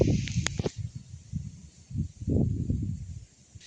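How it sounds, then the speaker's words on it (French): Gusty wind during a supercell thunderstorm buffets the microphone in low, uneven rumbling bursts, with a few sharp clicks near the start. "je pense que c'était le bruit du vent"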